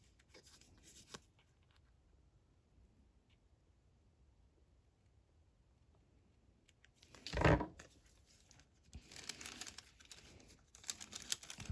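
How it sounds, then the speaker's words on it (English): A corner rounder punching the corners of paper for a junk journal, a single sharp crunching snap in a quiet room, followed by rustling and handling of paper. "let me just round the corners on this one"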